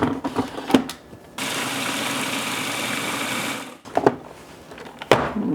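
A kitchen blender whirs for a couple of seconds, chopping walnuts and almonds into small pieces, with clattering and knocks of the jar before and after the run.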